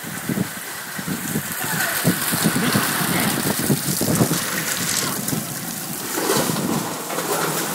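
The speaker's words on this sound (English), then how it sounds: "Out of the rain." Rain from a Brisbane summer storm patters and rushes outdoors with gusts of wind buffeting the microphone, while birds call faintly in the background.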